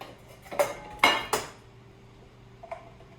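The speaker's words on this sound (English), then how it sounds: "get these in the frying pan here" A few metallic clinks and clatters in quick succession, as hot dogs drop into a frying pan, then a softer tap after a pause.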